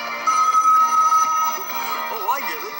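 A voice imitates a telephone ringing with a sustained electronic-sounding trill, then wavering tones, on a radio call-in show, loud and close.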